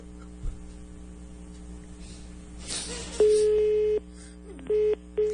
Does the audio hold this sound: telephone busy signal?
yes